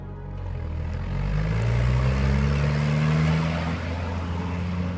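Hybrid ATV with electric motors driving under load, a steady low whine and hum that swells in the middle and rises slightly in pitch, fairly close, with no talking.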